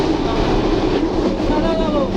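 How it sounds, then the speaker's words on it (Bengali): Benapole Express passenger train running, a steady loud rumble with continuous low-frequency rolling noise throughout, heard from onboard with faint voices mixed in. "ট্রেনটি আগে যেতে হচ্ছে"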